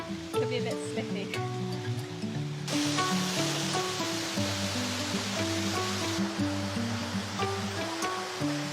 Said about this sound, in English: We're now coming up to this waterfall.